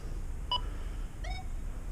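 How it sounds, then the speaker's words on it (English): A Minelab Equinox metal detector chirps twice from electromagnetic interference, two short faint electronic tones about a second apart over low background hum. "Park mode, Equinox chirped."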